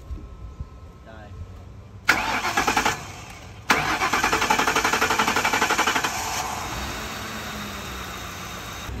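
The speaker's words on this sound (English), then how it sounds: "if I rev it, it just hopes to die" An old limousine with no gas in the tank cranks and catches, then revs in rough surges before sagging back toward stalling, loud and close with continuous engine noise throughout.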